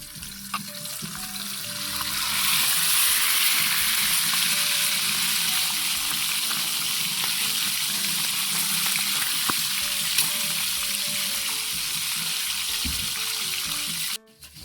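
Tambakol tuna frying in a pan of oil, a loud continuous close sizzle and bubbling crackle that holds for several seconds before cutting off, with no voices.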